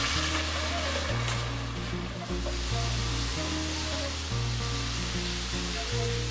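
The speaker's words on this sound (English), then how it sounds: "fry a handful of curry leaves and the slit green chilies for a minute on low flame. Add the blend tomato and mix." Blended tomato puree sizzling and frying in a pan with curry leaves and slit green chilies over a low flame, a steady close hiss with no talk, backed by a soft melodic hum.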